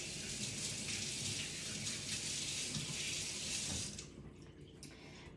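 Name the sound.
rinsing hands under running tap water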